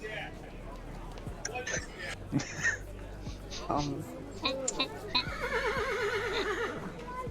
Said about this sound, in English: Those horses seem upset about something.